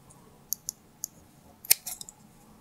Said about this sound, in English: And we'll cut that.